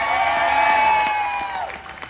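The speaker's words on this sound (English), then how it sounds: "Cheer for the Coast Guard." A large crowd on a cruise ship deck cheers and whoops for the Coast Guard at a Memorial Day celebration, a steady roar of voices and applause with a sustained whistle-like tone riding on top.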